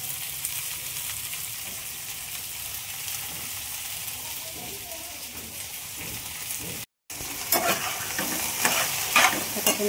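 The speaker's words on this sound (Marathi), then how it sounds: "ते वाटण फ्राय करायला ठेवले मी" Ground spice paste fried in a pan, a dense crackling sizzle throughout, briefly cut to silence, then resuming louder with sharper popping and stirring scrapes; no talking.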